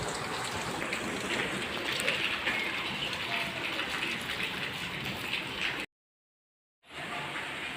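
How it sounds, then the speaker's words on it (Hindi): Steady, dense monsoon rainfall in Delhi hisses continuously, a broad wash of patter close by, broken by a second of silence before resuming. "तो ये देखिए होने लगी फिर से बारिश।"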